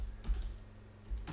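Keys tapped on a computer keyboard, heard as a couple of faint, quick clicks close to the microphone over a quiet room hum.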